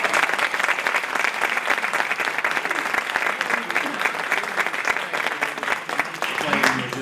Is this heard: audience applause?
yes